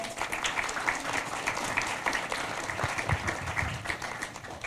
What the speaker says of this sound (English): give them a quick round of applause as a thank you for being here